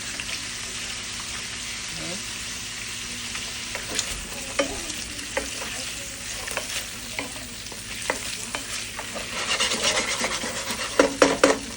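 Imitation crab meat sears in a hot pan with a steady broadband sizzle, broken by scraping utensil strokes and light clinks that grow busier toward the end; no one talks.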